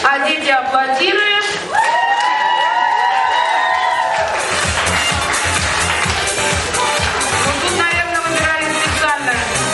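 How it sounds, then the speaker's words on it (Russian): Children at a summer camp event applaud and cheer loudly as music plays, a dense continuous wash of clapping and shouts with a melodic tune on top. "а дети аплодируют"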